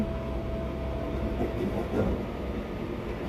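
Steady low rumble of a moving Vande Bharat express train heard from inside, with a faint constant hum and occasional rattles, continuous throughout without talk.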